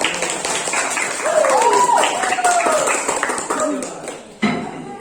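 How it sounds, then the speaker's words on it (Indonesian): A classroom of students applauds their classmates, a dense patter of clapping mixed with chatter and voices, dropping off briefly near the end before a final burst. "kasih tepuk tangan dulu untuk teman-teman"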